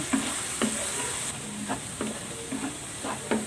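Coconut milk curdles into latik in a pan of oil, giving a constant hissing sizzle broken by regular scraping stirs about every half second, heard close with no talk.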